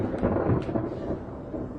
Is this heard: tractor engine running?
no